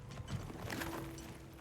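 A horse's hooves clip-clop at a steady walk in Monster Hunter Wilds, faint and close, with a light mechanical whir running underneath and no talking.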